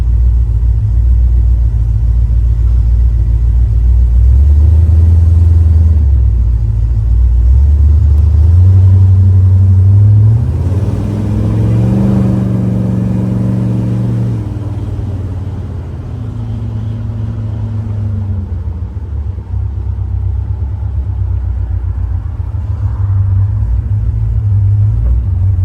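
A 1971 Chevrolet Corvette's 454 V8 engine roars at full throttle, the revs climbing and falling through several gear changes, close and loud throughout.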